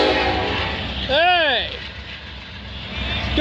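A freight train horn sounds in Burlington, Ontario, one loud sustained blast that rises and falls over steady rumbling rail noise from the passing train.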